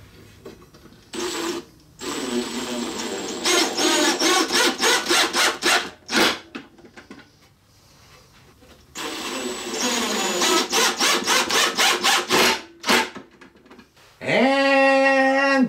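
A power driver sinks number 8 by 1¼ inch wood screws into a bracket on a wooden garden trolley, two long whirring bursts of several seconds each with brief pauses, close and loud, ending with a short rising whine.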